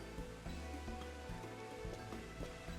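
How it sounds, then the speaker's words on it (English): Rain falls steadily in Final Fantasy XIV, a continuous soft hiss of drops on surfaces with a low, constant rumble and no talking, evenly loud throughout. "Sorry, it's raining."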